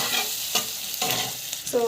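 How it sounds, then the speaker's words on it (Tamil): Chana dal with asafoetida sautés in a pan, giving a steady sizzle broken by several distinct stirring scrapes at a fairly even rhythm. "கடலைப்பருப்பு போட்டு நல்லா வதங்குறோம்"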